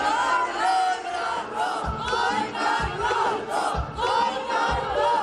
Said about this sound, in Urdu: خواتین شرکا نے عمران خان کے خلاف بھی شدید نعرے بازی کی